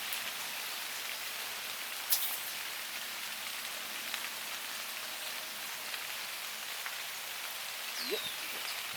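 Steady rain falling along a shoreline during a fishing trip, an even soft hiss throughout with a few faint taps, no voices.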